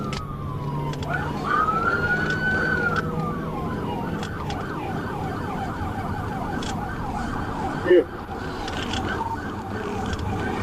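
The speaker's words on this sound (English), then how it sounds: "Sergeant Permenter activated his emergency lights and siren." A police car siren wails in a rapid repeating yelp during a high-speed chase, heard from a dashcam over steady road and engine noise, with a brief louder thump near the end.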